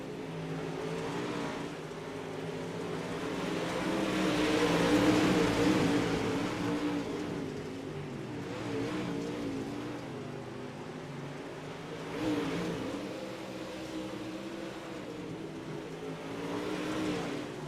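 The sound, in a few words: race cars on a dirt oval track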